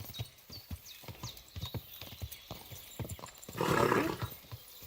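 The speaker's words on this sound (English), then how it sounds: "I'm riding my horse into camp" A horse in the medieval game Kingdom Come: Deliverance II walks at a slow pace, its hooves clip-clopping in a steady, even rhythm, joined near the end by a brief burst of rougher noise. No one speaks.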